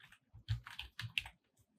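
Quick bursts of typing on a computer keyboard, a handful of close, muffled keystrokes in an uneven rhythm, with short quiet gaps between them.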